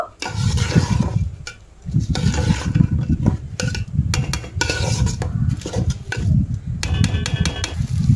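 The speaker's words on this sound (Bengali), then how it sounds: "তেলের মধ্যে চালটা ভালোভাবে নেড়ে চেড়ে একটু ভেজে নেব" Gobindobhog rice is stirred and fried in oil in a pan, with repeated scraping and clanking of a metal spoon against the pot over a low sizzle, in uneven bursts and close by.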